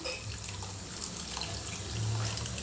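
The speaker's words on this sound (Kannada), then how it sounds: "ಲಾಸ್ಟಲ್ಲಿ ಸ್ವಲ್ಪ ನೀರು ಹಾಕಿ" Water running steadily into a pot, a continuous close splashing pour with no talking.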